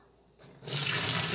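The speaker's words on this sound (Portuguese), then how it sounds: "Agora eu vou colocar 4 litros de água fervente" Four litres of boiling water pour into a container for homemade soap, beginning faintly and then becoming a loud, steady rush of liquid that continues to the end.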